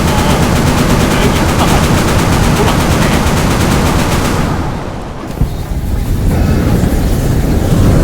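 Rapid rifle fire rattles in the Roblox video game as a loud, continuous burst of shots, with a brief lull midway before the firing resumes at full intensity.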